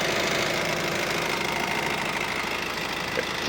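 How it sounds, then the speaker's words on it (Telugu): A 2018 Honda WR-V with a sunroof idles steadily, its engine a dense, even mid-range drone with a faint rhythmic knock, close and loud throughout. "సింగిల్ సెల్ఫ్లో బండి స్టార్ట్ అవుతుంది. ఒకసారి మళ్ళీ స్టార్ట్ చేస్తాను చూడండి"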